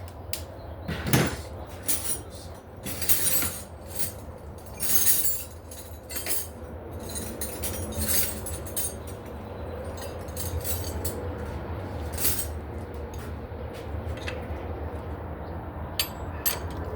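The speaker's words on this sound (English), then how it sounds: "This one, it's a 15 millimeter. I'm gonna have to get a wrench." A 15 millimeter wrench is fished out of a pile of tools during a timing belt and water pump job on a 2006 Chrysler 300 3.5, giving soft scattered metallic clinks and rattles in a quiet garage.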